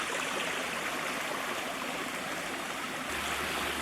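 A small stream flows through a sheltered Welsh woodland valley with a continuous, even rushing and babbling of water, steady and moderately close, with no voices.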